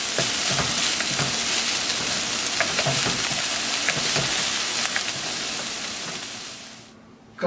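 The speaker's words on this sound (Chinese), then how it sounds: "點解要炒啲洋葱呢？" Onions stir-frying in a pan for a Hong Kong-style corn and sliced pork rice dish give a steady, loud sizzle, with frequent scraping stirs throughout, before the frying fades out near the end.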